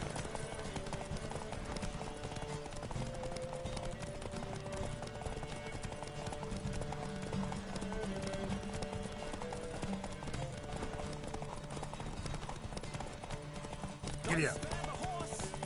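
Horse hooves clip-clop at a steady galloping rhythm in The Witcher 3, running continuously beneath a game music bed, with a brief louder burst near the end.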